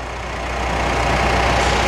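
A Mitsubishi Triton 3.2 diesel engine running, steady and close, with a low, even drone that swells slightly over a short stretch, no voices.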